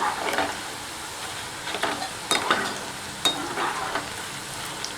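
Boondi batter drops fry in hot oil for laddu, giving a continuous fine sizzle with periodic brighter bursts as the pieces are stirred, close and moderately loud.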